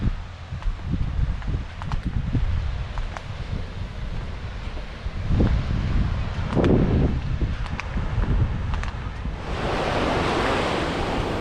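Surf rolls onto the beach at Topsail Hill Preserve State Park on Florida's Emerald Coast, a steady wash of breaking waves with wind buffeting the microphone and a brighter, louder hiss of water in the last couple of seconds.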